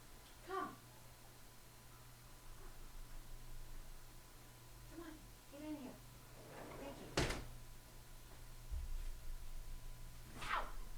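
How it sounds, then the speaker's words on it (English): A door shut indoors gives one sharp, fairly loud thud, with a softer knock later, over a quiet room hum and faint voices. "I wanted to close the door."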